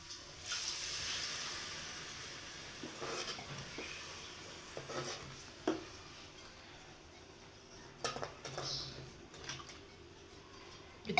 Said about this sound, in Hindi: मैं डाल दूँगी थोड़ा सा पानी।